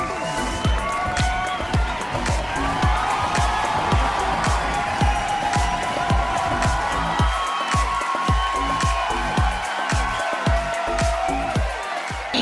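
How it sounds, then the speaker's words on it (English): An audience at the World Book Fair at Bharat Mandapam applauds steadily, a dense continuous patter of clapping with occasional cheers and whoops throughout. "everyone please give a round of applause for Rajni ma'am."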